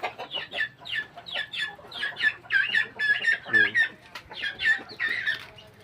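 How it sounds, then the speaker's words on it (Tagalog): Native backyard chickens cluck in short, busy bursts, fairly close and loud, with overlapping calls from several birds and a low murmur of other farm noise beneath them. "Aside sa panabong, may native chicken."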